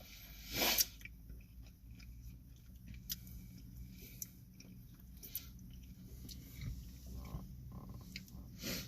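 Someone chewing food inside a parked car: soft, close, wet mastication with small bites and clicks over a quiet interior hum.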